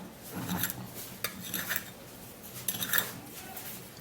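Dry ingredients being mixed together in a bowl, with soft rasping scrapes and light clinks of a utensil against the bowl coming in short bursts, close and quiet, with no one speaking.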